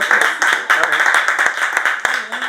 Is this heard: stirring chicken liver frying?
no